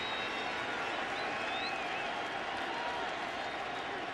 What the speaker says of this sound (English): Crowd is pleading with C.J. Wilson to end the top of the second right here.